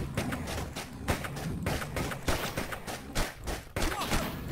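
Dense bursts of gunfire crackle through a Western-themed shooter game, A Fistful of Gun, with repeated loud sharp shots in uneven rapid clusters amid hoofbeat-like thumps and busy game noise, no voices.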